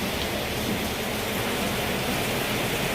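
Steady, dense rainfall pours onto surfaces nearby, a continuous even hiss with no pauses and no voices.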